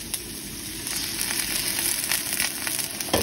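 Soup stock goes into a spicy Thai squid stir-fry with krachai, a loud broad hiss and bubbling sizzle rising close up, ending with a sharper burst.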